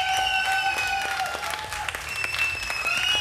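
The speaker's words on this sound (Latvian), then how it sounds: "aplausus Ingai, lūdzu!" Audience applause for karaoke singer Inga at a televised karaoke championship, dense steady clapping filling the whole stretch, close and loud with sharper individual claps standing out.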